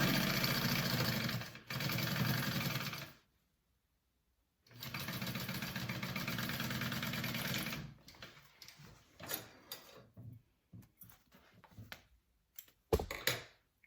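Sewing machine stitching an accent piece onto a pouch at a 3/8 seam allowance, running in two steady, loud bursts separated by a short pause, followed by fabric handling and scattered small clicks and taps.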